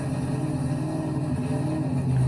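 A monster truck engine fires up and settles into a loud, steady, rumbling idle with a low throb that swells slightly near the end, close by and with no talk.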